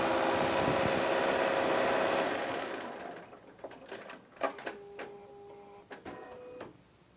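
A Bernina 770 embroidery machine stitches an applique design, its steady mechanical whir close and loud at first, then tapering off into scattered clicks and short high beeps.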